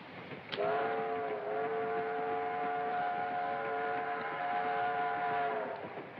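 A passenger train runs on the rails in a 1941 film, a long, steady whistle-like tone sounding for several seconds over a low, continuous rolling rumble.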